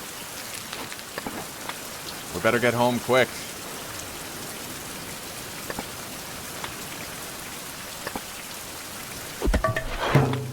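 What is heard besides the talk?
rain in the video game Fountain of Youth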